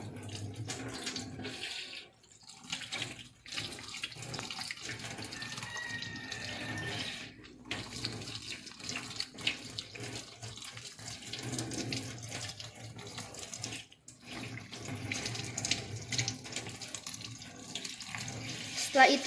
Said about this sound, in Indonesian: Setelah itu kita bilas tangan hingga bersih dari ujung jari tangan dan siku.